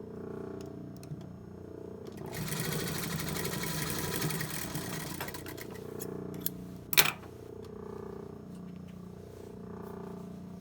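A sewing machine stitches a corner of a men's tailored shirt placket, a close continuous mechanical whir lasting around three seconds, followed by a sharp brief clack and a quiet room hum.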